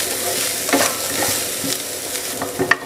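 Chili powder and turmeric stirred into hot oil for a street-stall egg and tapioca fry, a steady close sizzle with scraping stirs and a louder clink near the end, no talk.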